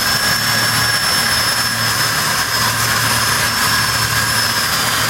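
An electric sander runs continuously on a stained glass panel with zinc came, giving a loud, steady whine and hiss held close for the whole stretch without any break.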